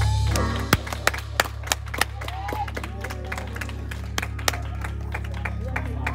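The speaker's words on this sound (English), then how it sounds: "We got to clap your hands together for Foster." A church congregation claps in a steady, regular beat, with sharp clapping accents over a low murmur of voices and a sustained organ-like hum.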